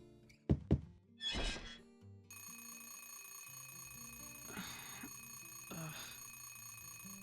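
A couple of soft thumps and a rustle, then a phone alarm starts and rings steadily, a repeating electronic tone with shuffling movement over it.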